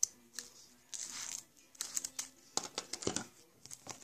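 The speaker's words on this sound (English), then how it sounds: "You open it, and then you cut the sides off." A gum pack wrapper being opened and its sides cut off, with crisp crinkling, snips and scratchy rustles in short bursts, close and fairly quiet, no talking.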